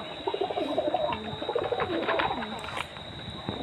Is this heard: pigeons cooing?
yes